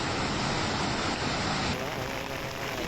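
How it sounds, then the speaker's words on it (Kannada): Rain-fed waterfall at Megala Kanive cascading over rocks in a forest area during heavy rain, a steady, loud, broadband rushing roar that holds constant throughout with no voices. "ಮೇಗಳ ಕಣಿವೆಯ ಬಂಡೆಗಲ್ಲಿನ ಮೇಲೆ ನೀರು ಧುಮ್ಮಿಕ್ತಾ ಇದೆ."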